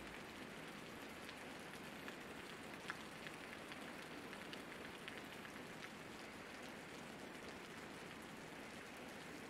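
Continuous rain in the video game Osiris: New Dawn falls steadily, a dense, even hiss of drops on a surface, unbroken throughout.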